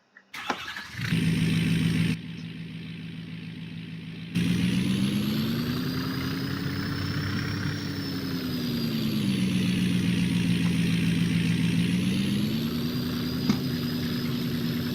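A 2016 Ford F350 pickup engine in Farming Simulator 22 cranks and starts, then settles into a steady mid-pitched idle with a few revs rising and falling, heard alone with no voices.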